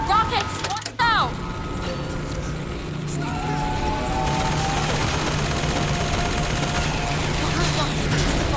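Rockets and gunfire in the video game BioShock Infinite: a dense fusillade of shots and explosions rolls on throughout, with a sharp blast near the start and whooshing, whistling streaks layered over a constant battle din.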